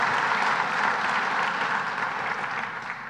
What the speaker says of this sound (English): let's give Roberta Reardon a round of applause